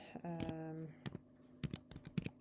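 Keys on a computer keyboard are tapped out in short, spaced clicks while a postal code is entered, with a brief murmur of a voice near the start; the clicks are close and fairly quiet.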